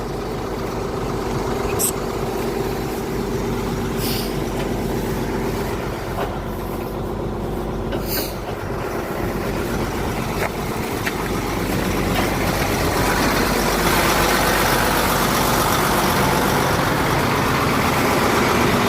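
A Case International 3394 tractor engine idles steadily nearby, a continuous low diesel rumble that holds throughout, with brief clanks and voices talking faintly in the background.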